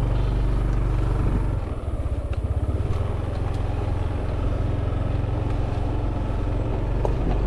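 A motorcycle grinds up a steep, winding mountain road in Cebu, a loud continuous engine drone close by with a rough, pulsing patch early on, no voices heard.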